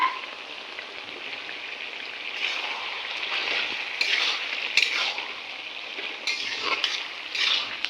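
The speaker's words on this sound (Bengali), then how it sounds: "লাউয়ের খোসা ভাজা হচ্ছে" Soft sizzling and crackling of bottle gourd peel frying in a pan, with occasional scraping stirs rising and falling over a steady background.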